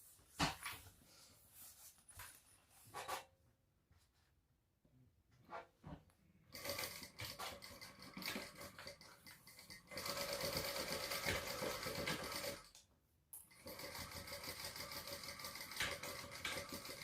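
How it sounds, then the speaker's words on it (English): Sewing machine stitching across the raw ends of a fabric baby sling, bursts of steady rapid mechanical whirring with short pauses between runs, loud and close with no talking. "And then we're going to stitch across."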